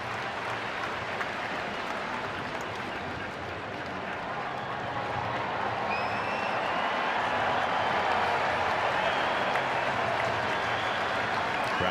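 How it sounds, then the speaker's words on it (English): Baseball stadium crowd at a Red Sox versus Blue Jays game swelling with cheers and scattered clapping in support of pitcher Scherzer, a broad steady roar building gradually, with faint voices mixed in. "Crowd still filing in here on this Thursday afternoon, getting a little bit louder in support of Scherzer."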